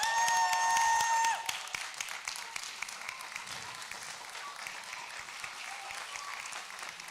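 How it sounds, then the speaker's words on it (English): Sustained applause from a convocation ceremony audience for a degree honoree, a dense, even roar of many hands clapping that continues throughout after a brief tonal sound at the start. "You can see the applause."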